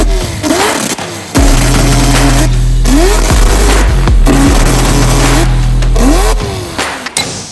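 A Volvo fitted with two Renesis RX-8 13B rotary engines joined as a four-rotor revs hard and close, rising in repeated sweeping pulls with brief lulls between, loud and raw.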